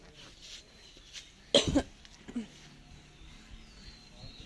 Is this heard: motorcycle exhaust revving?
no